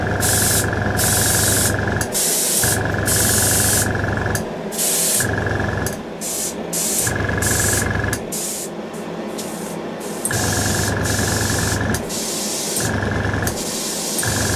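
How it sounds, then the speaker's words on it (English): Repeated bursts of aerosol spray paint from a can on a Revell USS Voyager plastic model, several loud hissing sprays of varying length separated by short pauses. "So we'll do a couple test sprays, make sure that the paint is mixed up nicely"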